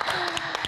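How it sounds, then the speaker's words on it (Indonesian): Studio audience applauding a guest on a talk show, a short burst of many hands clapping with a faint voice underneath. "Tepuk tangan dong buat Mbak Yuni Shara."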